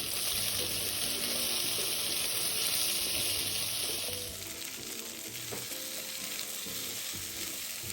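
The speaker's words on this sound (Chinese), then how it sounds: "芋头必须要用点油，像视频中这样煎一煎" Chunks of taro pan-fry in oil with a bright, continuous sizzle that is loud at first and then settles to a softer crackle halfway through. Light stirring sounds come through, and no one speaks.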